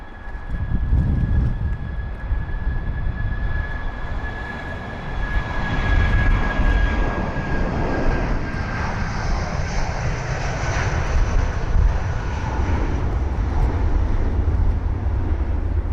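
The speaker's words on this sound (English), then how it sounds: "that is the A319's departure after London Heathrow 27 right" An Airbus A319 departs runway 27 right at London Heathrow, a loud, steady jet engine roar with a high whine that holds throughout and swells slightly midway, heard alone with no talk.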